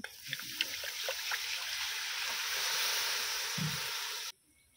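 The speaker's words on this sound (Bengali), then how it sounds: "মশলাটা যাতে না পুড়ে যায় দিয়ে দিচ্ছি অল্প একটু জল" A little water is poured into spice paste with red chilli powder in a pan, a short hissing splash and sizzle lasting a few seconds before stopping abruptly, close by, no talking.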